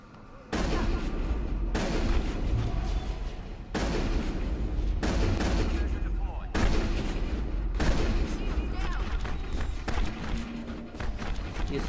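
Shotgun gunfire in the video game Mass Effect, a series of loud, booming blasts fired at irregular intervals of roughly one to two seconds, each sharp crack trailing into rumbling combat noise.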